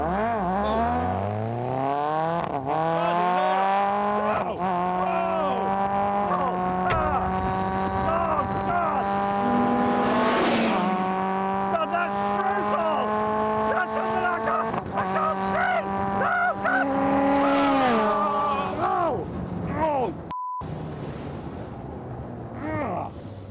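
A lightweight sports car accelerates hard, its engine howling up through the revs in rising sweeps with quick gear changes, loud and close throughout, while someone talks over it.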